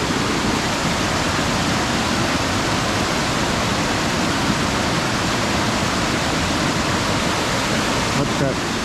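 A mountain waterfall at Mount Buffalo in Victoria's high country in autumn, a dense, constant rushing roar that stays loud and even throughout with no break, and a brief faint knock near the end.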